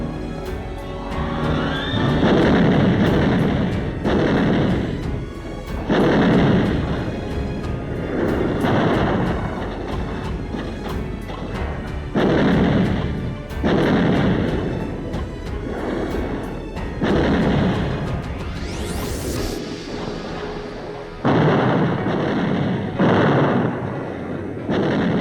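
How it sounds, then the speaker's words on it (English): Artillery fire in 1945 battle footage from Iwo Jima, heavy booming salvos in repeated bursts a few seconds apart, loud and rumbling, with a brief high whine partway through and no speech. "We call for artillery."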